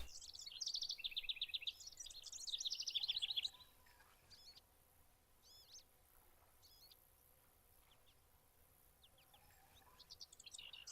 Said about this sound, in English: Got the birds chirping.